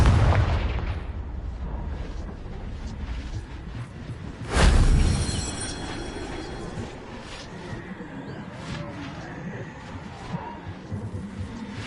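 Spell explosions from Bombarda and Confringo in Hogwarts Legacy go off with a loud booming burst midway, set against continuous rumbling game ambience and scattered smaller pops.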